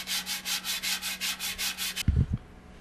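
A wooden pitchfork is sanded by hand with sandpaper: about ten steady rhythmic rasping strokes close up, followed by a couple of duller knocks of wood.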